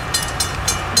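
Amtrak passenger train led by a BNSF GEVO locomotive rolling past, rhythmic clicks from the wheels passing rail joints over a steady low rumble, close and fairly loud, alone without voices.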